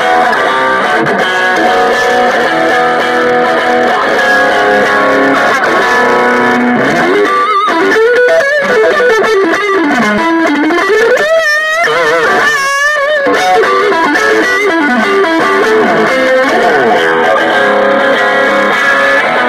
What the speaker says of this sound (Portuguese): E tem um canal também de LED, que é a distorção mais forte